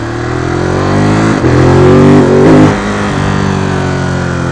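A vehicle engine revs up under throttle with a rising harmonic whine, briefly stumbling and surging during an attempted upshift before settling back to a steady drone, loud and close with no talking.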